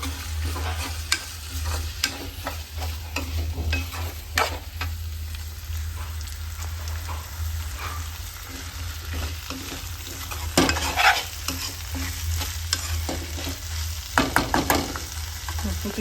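Fresh green peas stirred and frying in a pan, a constant close sizzle with scattered spoon scrapes and a few louder bursts of stirring near the end, no voices.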